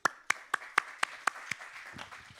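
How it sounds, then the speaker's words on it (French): Sparse applause rings out in a hall at a regional colloquium: about eight crisp, evenly spaced handclaps, close and distinct, then a few softer thuds as the clapping stops. "il est là, je vous demande de l'applaudir."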